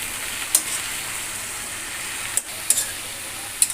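Vegetables seasoned with salt, turmeric and broken green chillies fry in a pan at home, giving a steady close hiss with a few sharp crackling pops and no talk.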